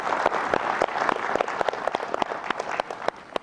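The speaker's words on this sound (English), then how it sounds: "let's go ahead and give them a round of applause" An audience claps in a brisk burst of applause, individual hand claps distinct within the steady crowd noise.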